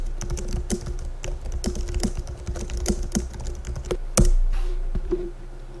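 Rapid typing on a computer keyboard, a steady run of close, crisp key clicks with a few louder strokes near the end, heard alone with no talking.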